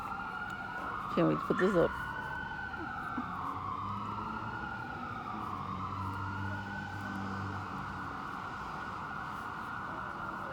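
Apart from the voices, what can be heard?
emergency vehicle sirens about a block away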